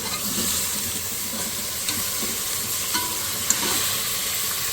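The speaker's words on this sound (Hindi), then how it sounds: "जब प्याज हल्की लाइट से पिंक होना शुरू होगी, इसके अंदर डाल देंगे गोश्त" Bone-in mutton frying with onions that are turning light pink in a pan, a steady close sizzle with faint stirring scrapes and no talk.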